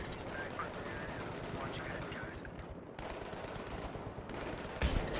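Sustained light machine gun fire in the Battlefield 3 video game, a rapid steady rattle of shots running throughout with battle noise, ending in a louder burst near the close.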